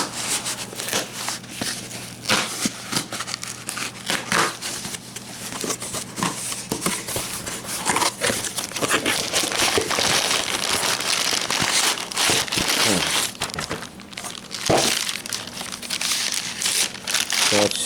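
Paper packing from an anime DVD package is crumpled and crinkled up close in busy, irregular bursts of rustling that go on throughout, with a person talking intermittently over it.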